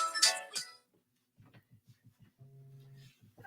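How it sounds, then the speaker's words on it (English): An incoming-call phone ringtone plays as a short, steady electronic tone amid soft clicks and quiet background sounds. "Oh, and I'm getting a phone call."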